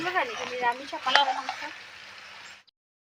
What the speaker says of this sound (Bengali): এইভাবে মাংসগুলা খুব সুন্দর করে আমি কষিয়ে নেব।